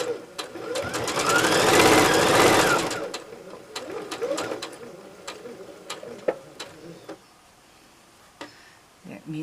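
A sewing machine runs in one steady burst of stitching while piecing flying geese quilt blocks, then stops. Scattered clicks and light handling knocks follow.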